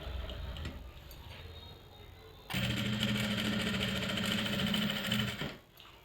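A sewing machine runs fast and steadily over a frock seam, a close mechanical whirr that starts after a quiet pause, holds for a few seconds and then winds down.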